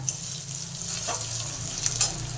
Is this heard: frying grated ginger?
yes